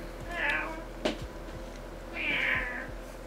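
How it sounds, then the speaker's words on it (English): Cat meowing in the background: two drawn-out meows about two seconds apart over a low steady hum, with a sharp brief click between them. "It's a retarded cat in the background."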